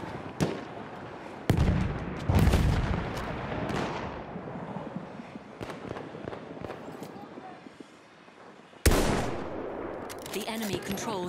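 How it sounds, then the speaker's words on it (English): A grenade explosion amid gunfire in a video game battle, sharp loud blasts at the start and near the end, with scattered shots and rumbling combat between them, while voices talk in the background. "Throwing a grenade, watch it!"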